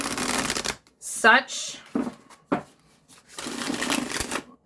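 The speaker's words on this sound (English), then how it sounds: "And this is one of my favorite shuffles." A tarot card deck shuffled by hand in a slow riffle, giving bursts of crisp fluttering card noise between stretches of someone talking.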